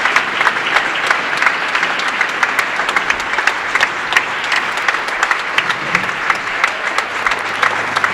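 Bowling crowd at the QubicaAMF World Cup final applauding and cheering after a strike: steady, loud clapping fills the whole stretch with scattered whoops and no clear speech.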